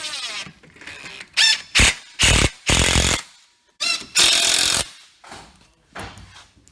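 Power drill driving 1.25-inch number 12 tap screws into a small light trap fan housing, heard as several loud whirring bursts of varying length separated by short pauses, close and prominent.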